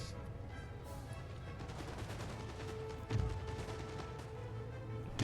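Musket volleys from a battle in the strategy game Empire: Total War, a sharp burst of gunfire near the middle rising over a steady rumbling battlefield din, with no talk.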